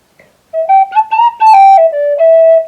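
A clear, bright tin whistle plays a short melodic lick, notes stepping up and down with a few quick ornaments, close and solo.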